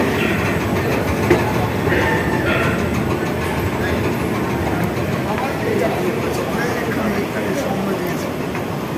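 India's first underwater metro train running between Howrah Maidan and Esplanade, a loud continuous rumble and rail roar with faint clicking from inside the carriage, steady throughout with some voices in the background.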